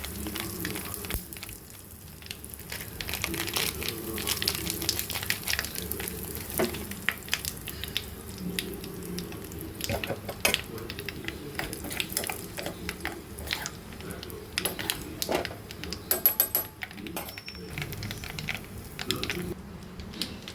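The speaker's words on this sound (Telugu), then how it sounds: "తాలింపు అయిపోతుంది వేసేసుకొని ఆవాలు జీలకర్ర ఎండుమిరపకాయలు ఇంగువ" A tempering of mustard seeds, cumin, dried red chillies and asafoetida crackles and sputters in hot oil, with irregular popping and clattering stirs close by, moderately loud throughout.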